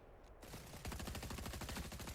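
Fortnite gunfire in rapid bursts, a brief shot followed by a quick, dense string of close, punchy reports, fairly quiet overall.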